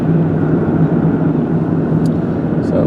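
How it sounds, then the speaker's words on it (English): A steady, loud rumbling drone of a Coast Guard Seahawk helicopter fills the clip, constant and unbroken, with no voices, on the Oregon coast. "you've got a Coast Guard helicopter. It's a Seahawk, or a modified Black Hawk."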